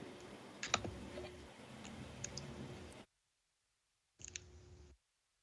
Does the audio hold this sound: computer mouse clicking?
yes